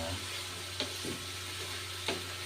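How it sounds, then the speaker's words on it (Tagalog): Ground meat and vegetables being stirred in a frying pan, a steady close sizzle with a couple of soft spatula scrapes. "haluhaluin lang po natin para yung ating diniling at saka yung mga sangkap"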